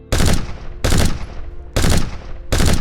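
Four loud, close bursts of rapid gunfire crack out at regular intervals, each a sharp dense volley with a short decaying tail before the next.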